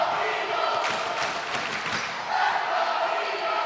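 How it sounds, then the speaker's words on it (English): A home crowd cheers at a Marquette basketball game against Quentin Road, a sustained roar of voices in a gym with scattered shouts and ball bounces, fairly steady throughout. "Home crowd cheering on."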